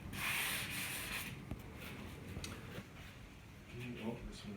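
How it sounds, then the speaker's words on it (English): Hand-sanding a small patch on a painted bedroom feature wall, a steady close rubbing scrape in continuous strokes that fade and return, with faint speech in the background. "There's something here that just needs to be sanded."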